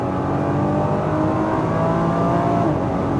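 A Nissan GT-R at full throttle on a race track, its engine holding a steady, loud, droning roar with a faint rising pitch throughout, heard from inside the car with no talking.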